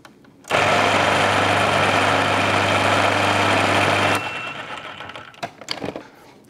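A food processor whirs loudly and steadily for about four seconds while mincing garlic for Lebanese toum, then cuts out, leaving a few light clicks and knocks as the machine winds down.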